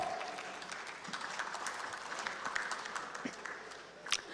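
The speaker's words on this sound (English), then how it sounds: "Please welcome Mr. Moin Raza with a round of applause." Audience applause for a panelist at a petroleum geology panel, a soft, fairly distant patter of many hands clapping steadily, with a brief louder clap near the end.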